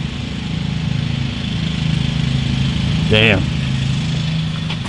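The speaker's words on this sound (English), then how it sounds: "He mowing his lawn over there." A neighbor's lawn mower drones steadily at a distance across the whole stretch, a continuous low engine hum, while a voice briefly exclaims over it.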